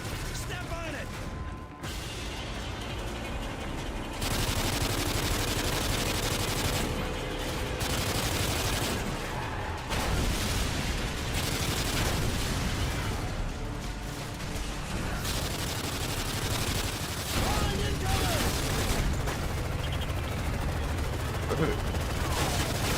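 LMG machine-gun fire in Call of Duty: Modern Warfare 3, with repeated dense bursts of automatic shooting and mechanical clatter across a long stretch of combat, with occasional talking underneath.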